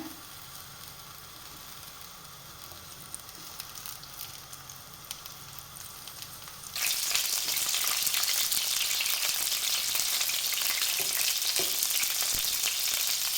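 Peppers laid into hot oil in a pan: a quiet background hiss at first, then a sudden loud, steady crackling sizzle that continues evenly, close by with no talking.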